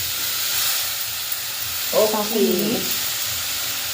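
A sizzling hiss holds steady throughout as cauliflower, moong dal and curry leaves go into a hot pan of oil, with a short burst of spoken talk in the middle.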